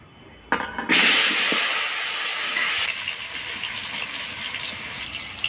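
Potatoes dropped into hot oil left over from frying snakehead fish give a sudden loud hiss that settles into steady, bright sizzling and bubbling. The sound stays close and continuous, with no voices over it.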